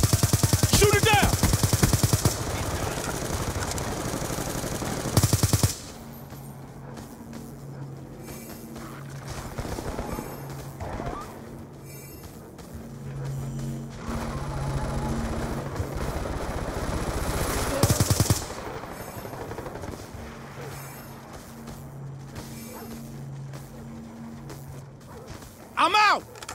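Automatic gunfire rattles in bursts during a Call of Duty: Black Ops 2 multiplayer match on PC, loud volleys at the start and middle, with game radio voices and softer ambient battle sounds between them.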